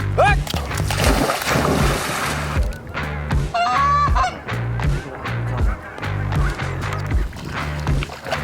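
Geese honk repeatedly and loudly during a Kansas goose hunt over water, a busy flock calling in overlapping bursts close by, with a low rumbling background throughout.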